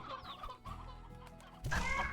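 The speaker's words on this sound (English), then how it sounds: "Don't murder my roosters." Roosters cluck in the video game Slime Rancher, a few short nasal calls that repeat over a steady game backdrop, then a louder burst of sound near the end.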